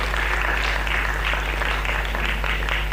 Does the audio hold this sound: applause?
yes